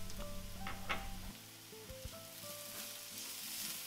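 Shallots, garlic and tomatoes fry in olive oil in a pan with a soft, steady sizzle, stirring clinks and faint scraping heard close by and quiet.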